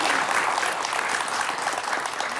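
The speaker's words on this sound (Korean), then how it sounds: "박수 한번 보내드릴까요?" Dense audience applause at a lecture, a crowd clapping loudly and continuously throughout with no pauses.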